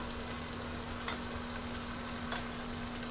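Mutton pulao mixture with chillies, coriander and mint leaves being stirred in a pot, a dense continuous sizzle with soft scraping from the spoon and a steady low hum underneath; no talking.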